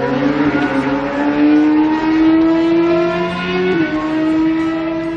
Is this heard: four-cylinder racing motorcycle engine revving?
yes